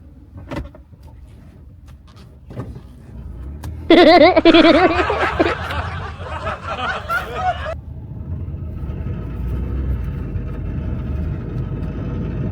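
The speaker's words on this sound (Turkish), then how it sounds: "Arabanın sesine bak ya hala." A car engine idles and revs, rising into a louder rough drone with a whining tone partway through, then settling into a steady running rumble.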